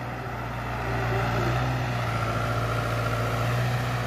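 New Holland 7500 75 HP tractor running while pulling a desi implement out of a deep pit, a low steady diesel drone that grows louder after the first second and holds close and constant.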